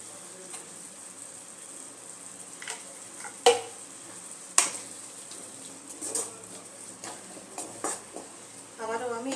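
Spiced chicken masala for Chicken Lababdar stirred in a pan, with soft scraping and a few sharp spoon knocks against the metal over a faint sizzle, plus a brief rising sound at the end.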